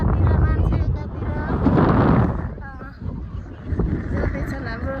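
Strong wind blowing across a hillside buffets the microphone with loud, continuous low rumbling gusts, while people talk close by throughout.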